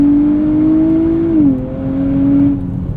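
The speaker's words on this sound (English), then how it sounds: "it's just such a fun car to rev out" A 2023 Nissan Z with twin-turbo V6 and 9-speed automatic revving high from inside the cabin, a loud steady engine drone that climbs, drops briefly at a gear change, then holds again.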